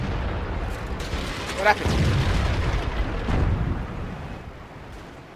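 A high explosive tank shell bursts in World of Tanks, one booming impact followed by a rolling rumble that fades away, heard beneath an excited player's voice.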